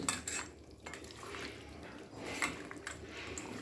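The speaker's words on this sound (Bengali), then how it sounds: "ভালোভাবে মাখিয়ে নিচ্ছি" Chicken is worked together with a marinade of turmeric and Kashmiri chilli powder in a bowl, giving soft, faint squelching and light clinks of the container in a short, continuous mixing sequence.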